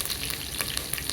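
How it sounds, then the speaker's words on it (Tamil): Curry leaves crackle and sizzle in hot oil, a dense, close spitting hiss with sharp pops throughout. "கருவேப்பிலை நல்லா பொரிச்சு"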